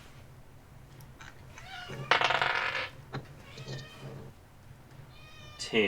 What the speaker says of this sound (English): That's just my cat wanting attention.